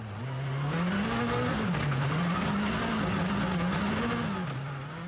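A Mitsubishi R5 rally car slides on a wet, rain-soaked stage, its engine holding a loud, wavering drone that rises and dips as the rear steps out, with tire hiss running through the whole pass.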